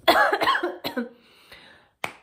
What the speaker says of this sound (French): je disais hier que je toussais plus, je tousse encore